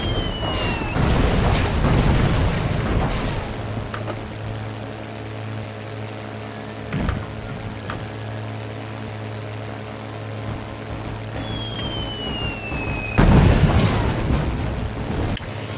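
Explosions as German airfield hangars are destroyed in the WWII flight game Secret Weapons Over Normandy, with heavy booms near the start and end over a steady droning aircraft engine, plus a few sharper blasts between them.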